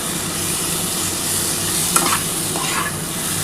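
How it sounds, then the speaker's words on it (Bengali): Masala being stir-fried for Katla fish curry with potatoes, producing a loud, steady sizzle with a short stirring scrape near the middle. "দেখো খুব ভালোভাবে কিন্তু আমার মশলাটা কষানো হয়ে গেছে।"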